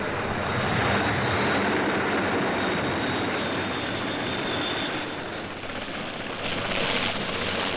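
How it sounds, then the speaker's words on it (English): A helicopter flies over the 1966 Farnborough air show, its rotor and engine noise a loud, steady broadband roar that dips briefly before swelling again. "helicopters are used in more leisurely, comfortable fashion to bring important visitors to the show, like His Royal Highness Prince Philip."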